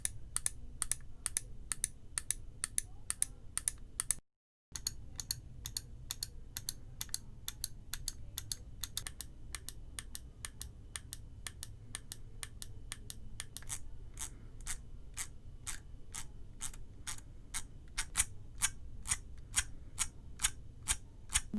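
Rapid, crisp clicks from a G Wolves HSK computer mouse button, repeating steadily and close up, briefly dropping out early on before continuing at an even pace.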